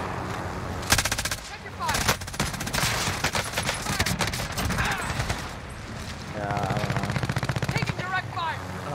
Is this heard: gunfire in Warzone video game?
yes